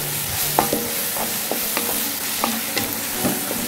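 Ingredients stirred and sautéing in a pan with bay leaves added, a steady soft sizzle under repeated scraping clicks of a utensil, close and moderately loud with no talking.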